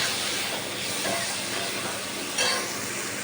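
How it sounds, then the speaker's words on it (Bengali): Grated pumpkin frying in a pan gives a steady, loud hiss of sizzling that fills the clip, with a brief swell of stirring near the end and no one talking. "এবার এটাকে আমি ভালো করে নাড়তে থাকবো"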